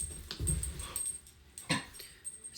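A dog at home growls low and whimpers, short soft vocal bursts at close range with quiet gaps between them, no talk over it.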